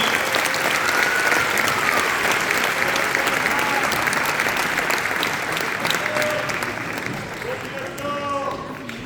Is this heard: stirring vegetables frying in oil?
no